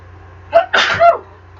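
A single close, loud human sneeze: a short sharp intake followed by an explosive burst, then quiet room tone.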